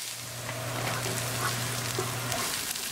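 Chopped onions sizzle steadily in hot oil in a pan while a fish masala is cooked, a close, even frying hiss with soft crackles and no talking.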